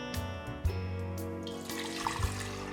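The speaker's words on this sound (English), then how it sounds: "put a little bit of water in the blender" Water splashes and trickles into a blender, a steady close pour with a couple of louder sloshes.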